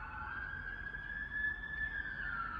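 A police car siren wails steadily in the background outdoors, a sustained rising and falling tone that grows a bit louder as the car passes, with no voices over it.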